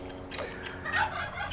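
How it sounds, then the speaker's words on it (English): Turkey gobbling in short bursts, fairly close, over a faint background of other farm noise; no talking. "You can probably hear our animals all the time squawking. We have turkey, one turkey"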